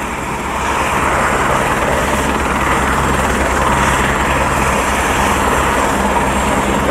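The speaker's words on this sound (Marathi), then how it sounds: "झालं हेलिकॉप्टर सुरू झाले ना आता उडणार आहे" Helicopter engine spinning up before takeoff, a loud, continuous close-range whine and rotor drone that rises after a brief quieter start and holds steady.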